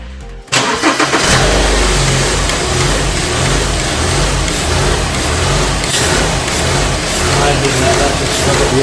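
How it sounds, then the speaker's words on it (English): A BMW engine cranks and fires, then runs steadily at a loud, close idle during an alternator replacement charging check, with a sharp start followed by continuous rumble. "we're currently going to start the vehicle to check its charging"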